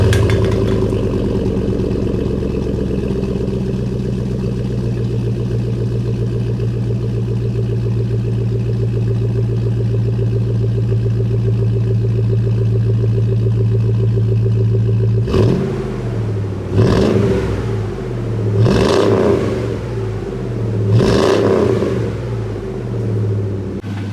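V8 truck engine breathing through a modified stainless steel exhaust, first settling into a steady, loping idle rumble, then ripping through three sharp throttle revs near the end, each rising and falling back to idle; close and loud, no voices.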